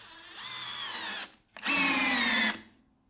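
A Skil 12-volt flip drill/driver set to torque 9 drives a Torx screw with no pilot hole, giving two loud whining bursts of motor noise separated by a short pause, close up and alone.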